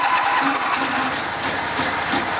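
A riding lawn mower engine cranks and catches, then runs in a rough, pulsing idle close by, loud and alone for a couple of seconds.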